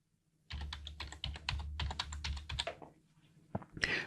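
Rapid clattering keystrokes on a computer keyboard as a passphrase is entered, a dense close burst of clicks in irregular rhythm, a brief pause, then a few more taps.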